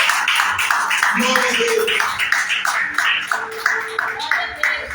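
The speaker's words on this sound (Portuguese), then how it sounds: "Glorifica Deus com palmas bem alegres" A church congregation claps joyfully in a steady rhythmic beat, fairly loud and continuous, while a voice speaks over the clapping.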